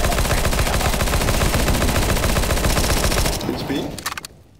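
Rapid automatic gunfire from a P90 submachine gun in Counter-Strike on the Inferno map, a dense, loud sustained burst for about three seconds that cuts off and trails into a few scattered fainter shots.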